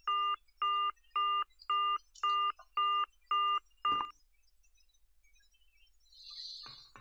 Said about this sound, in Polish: Bezprzewodowy telefon.